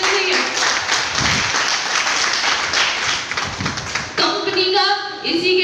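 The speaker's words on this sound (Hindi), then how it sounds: "तो कंपनी के लिए तालियां देनी चाहिए" Audience at a company meeting clapping, a brisk burst of many hands that thins out toward the end as a voice begins speaking over it, fairly close and loud.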